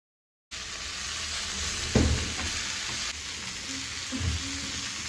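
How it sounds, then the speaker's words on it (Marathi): Prawns and bombil (Bombay duck) fish frying village-style in hot oil, a steady close broadband sizzle with a few louder bursts of crackle, no talking. "प्रॉन्स इकडे रेडी झालेले असतात फ्राय करून"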